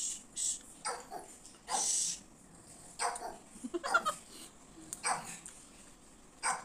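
A dog whines and barks while begging for food, giving about half a dozen short yelps and whimpers in irregular bursts, fairly close and moderately loud, with no talk over them.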